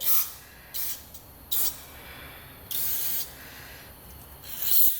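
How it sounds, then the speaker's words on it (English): Several short bursts of aerosol cleaner sprayed through a straw into a Taurus PT99 pistol hiss in sequence, separated by brief pauses, one longer blast in the middle, close and fairly quiet. "spray the inside."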